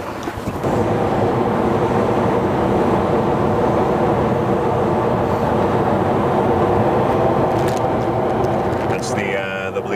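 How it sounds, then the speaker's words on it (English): Elevated city train passing in Chicago's Bucktown neighborhood, a loud, sustained close rumble and rattle of rail cars lasting several seconds before easing off at the end. "Train headed toward Western."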